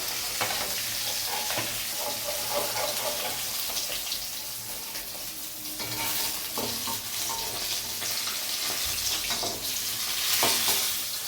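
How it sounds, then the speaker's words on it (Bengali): Fish fries in hot oil with a dense, continuous sizzle and occasional stirring and scraping sounds, heard up close with no voices. "আমাদের মাছ ভাজা হয়ে গেছে, এবার আমরা তুলে নেব।"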